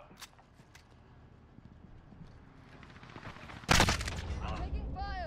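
Gunfire in the Call of Duty Modern Warfare video game: quiet at first, then a sudden loud burst of shots near the end, followed by continued rapid firing, with brief voice callouts mixed in.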